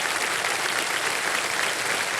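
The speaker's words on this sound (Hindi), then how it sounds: "इनके लिए जोरदार तालियां बजाएं।" Studio audience applause on the Kaun Banega Crorepati game show set, a steady, dense wash of clapping from a large crowd, continuous and even throughout.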